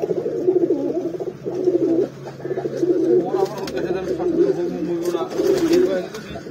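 Pigeons coo in a low, repeated rhythmic pattern, fairly close, with voices murmuring in the background.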